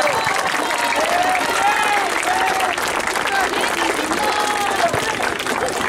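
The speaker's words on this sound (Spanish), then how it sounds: "vamos a darnos un aplauso a todos" Sustained crowd applause and cheering at a youth tournament final for the Pony category, Olimpico versus Diablitos, steady and loud throughout, with whistles and voices mixed into the clapping.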